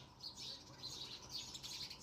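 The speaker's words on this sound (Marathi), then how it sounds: "हाक ह्या चिमणीची." Faint, high sparrow chirps repeat in quick, uneven bursts over a soft low background, sounding somewhat distant and quiet.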